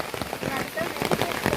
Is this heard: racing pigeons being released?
no